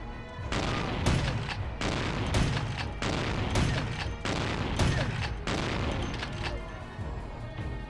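Shotgun blasts in Vampire the Masquerade Bloodlines, a loud, evenly spaced series of heavy booming shots trading back and forth, with faint voices under the gunfire.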